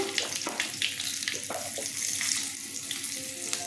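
Green chillies and nigella seeds hit hot oil for tempering in a Bengali fish curry, giving a steady crackling sizzle with scattered pops and faint clinks throughout, moderately loud and close, with no one talking.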